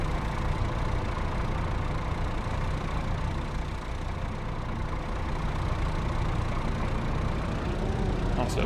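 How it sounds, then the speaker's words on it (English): A small two-wheel-drive tractor engine idling in a farming simulator game, a steady low rumbling drone held evenly throughout, with no talking. "Nice little two-wheel drive tractor."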